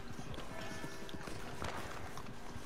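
A horse gallops in Red Dead Redemption 2, its rapid hoofbeats drumming steadily and close throughout, with game ambience around them.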